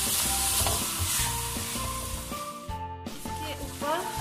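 Chicken karahi sizzles steadily in a frying pan while a spoon stirs and scrapes through it, loud and close, with continuous frying hiss and intermittent clanks of the spoon against the pan.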